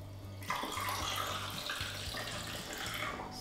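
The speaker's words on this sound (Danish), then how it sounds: "Så er jeg bare lige kommet lidt vand over i den her." Tap water runs steadily into a cooking pot holding leftover lemonade, a continuous close splashing stream that starts abruptly and carries on without pause, no voices present.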